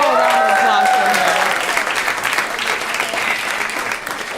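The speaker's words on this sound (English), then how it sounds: "Let's put a little round of applause for her." A live podcast audience breaks into a warm round of applause, with a voice briefly heard at the start. The dense clapping then fades gradually toward the end.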